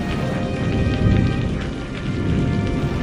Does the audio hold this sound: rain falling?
yes